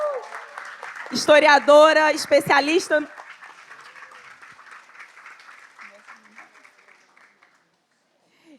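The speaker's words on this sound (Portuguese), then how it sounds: "Agora eu quero ouvir a maior salva de palmas" Audience applause at a panel event on racial justice, sustained clapping that swells and slowly fades under someone speaking over a microphone, the crowd gradually going quiet.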